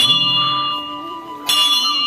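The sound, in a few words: bell ringing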